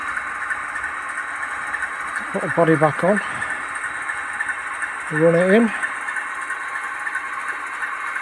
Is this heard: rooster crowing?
no